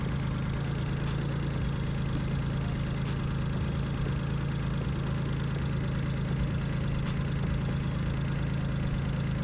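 An engine idles steadily during carburetor synchronisation, a continuous low hum with a fairly even drone throughout and no talk.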